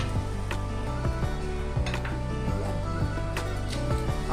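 Boiled mung dal poured into a hot pan with bitter gourd over raised flame, a steady sizzle with occasional scraping and clinking of a utensil against the pan, continuous and close.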